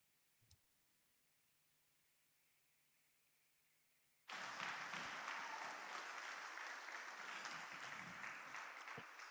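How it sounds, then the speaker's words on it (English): A packed house breaks into loud, sustained applause after a union talk on climate change. A brief click and faint hum come first, then the clapping surges in and holds steady to the end. "you also got a very rousing round of applause from a house as packed as they would let us pack it"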